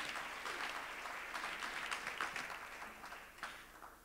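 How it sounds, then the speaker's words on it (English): A church congregation claps at a live service, producing a faint, continuous patter of applause that swells slightly and then tapers off over a few seconds. "Let's clap hands for the Lord Jesus Christ."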